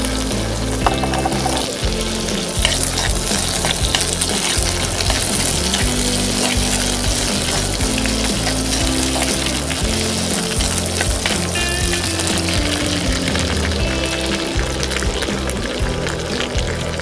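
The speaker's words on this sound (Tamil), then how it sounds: "ஆயில் சூடாகிறதுக்கு முன்னாடியே காஞ்ச மிளகாவை போட்டுக்கணும்" Dried red chillies fry in hot oil in a pan for a spicy village-style quail fry, giving a steady, close, loud sizzle that runs unbroken throughout with no voices.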